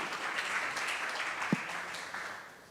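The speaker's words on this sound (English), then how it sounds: "Let's give a big applause for team Tung Tung" Audience applause for a team called Tung Tung UV on stage at a hackathon event, a steady wash of moderate clapping that thins slightly toward the end, with one sharper knock partway through.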